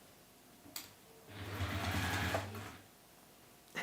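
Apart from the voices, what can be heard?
sewing machine stitching a bag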